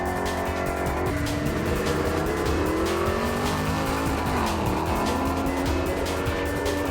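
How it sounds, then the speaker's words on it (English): A Holden VK drag car with a naturally aspirated 383 cubic-inch stroker V8 making 750 horsepower roars loudly and continuously, its engine note rising and shifting as it accelerates, with tire squeal and racing noise at a drag strip. "The car runs a 750 horsepower NA 383 cube stroker"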